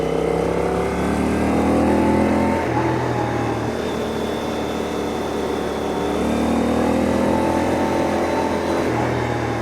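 A Honda Hawk 11 motorcycle with a 270-degree crank twin, held in second gear on a mountain pass, rumbles loud and close as the engine note rises and falls steadily through the whole stretch, with no voices.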